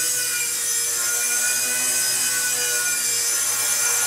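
Beginner RC helicopter, a WLtoys model, hovering and flying nearby with a steady high-pitched rotor and motor whine that holds constant and fills the whole stretch, no voices over it.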